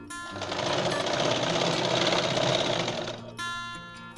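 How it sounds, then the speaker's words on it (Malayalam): A sewing machine stitches the seam of a straight pant, a fast continuous mechanical whirring and rattle that starts, runs steadily for about three seconds up close, then stops abruptly. "പിന്നെ നമ്മൾ മറ്റേ ഭാഗം തയ്ച്ച പോലെ തന്നെ തയ്ച്ച് താഴ്ത്തൊന്ന് സ്റ്റോപ്പ് ചെയ്യാം."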